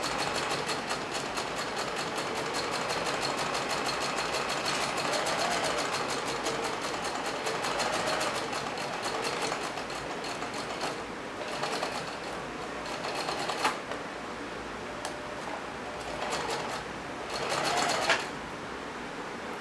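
A sewing machine runs steadily, stitching a seam with a 5/8-inch allowance. Its rapid mechanical whir carries on for about twenty seconds with small pauses and changes in speed. There is no talking.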